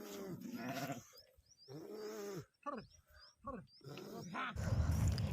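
Sheep and lambs being herded by the Chitravathi river bleat repeatedly in overlapping, wavering calls close by, with rustling and wind-like noise building toward the end.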